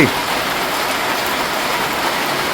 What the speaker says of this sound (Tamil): நல்லா மழை பெய்யுது